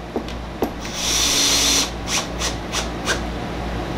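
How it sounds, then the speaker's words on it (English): A power drill drives a screw through a Kreg 520 Pro pocket hole jig, whirring in a short steady burst after a few clicks, then stopping to quiet workshop hum with small taps. "you got to drill it the rest of the way"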